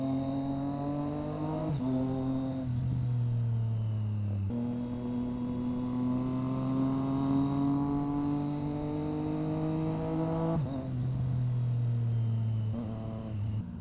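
A car with an aftermarket Zard exhaust revs and pulls through gears on the road, a close, droning engine note that rises, drops at shifts, and climbs again with no talking over it.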